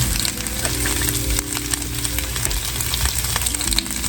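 Chunks of onion, bacon and red jalapeno fry in a pan with a steady, loud, close sizzle, with occasional stirring scrapes and crackles and no talking.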